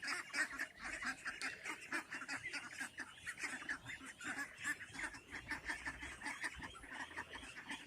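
Ducks on a farm in Assam quack and honk continuously in a dense, overlapping chorus, close and lively, with no talk over them.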